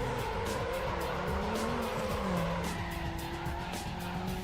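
Mazda MX-5 tires squealing through a long, uncorrectable slide in the racing game Need for Speed Underground, with the engine droning loudly underneath; the screech rises and wavers steadily throughout.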